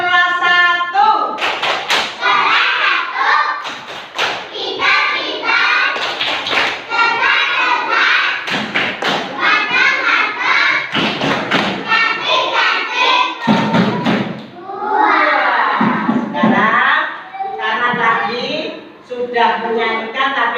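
A first-grade class performs a rhythmic clapping routine, with claps and thumps ringing out in patterned bursts alongside children's chanted voices throughout, loud and close in a classroom.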